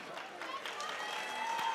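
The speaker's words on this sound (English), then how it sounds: "Round of applause for our fighters." Audience applause after a Muay Thai fight, a scattered crowd clapping at moderate distance with an announcer talking over it.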